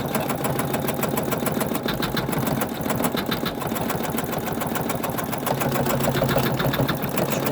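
An embroidery machine stitching an in-the-hoop fabric Christmas star ornament runs continuously with a loud, rapid, even needle chatter and motor hum, close up and without talk.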